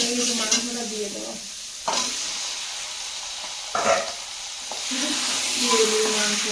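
Meat dropped into a pan of fried spices, sizzling loudly and steadily with a few sharp bursts as pieces hit the hot oil and get stirred, and a voice talking briefly underneath.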